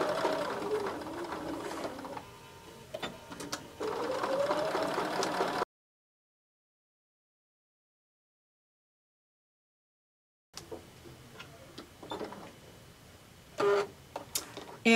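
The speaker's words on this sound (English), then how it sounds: "Now I'm just going to back tack. I'm going to sew this 4 times." Sewing machine back-tacking stitches across a rope bowl, short bursts of mechanical whirring that start and stop, broken by a long silent gap, close and fairly quiet.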